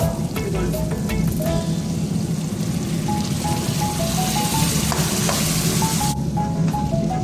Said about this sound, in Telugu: ఇది పూర్తిగా బాగా వేగనిద్దాం ఇదంతా బాగా వేగి నూనె ఇట్లా పైకి వదిలేదు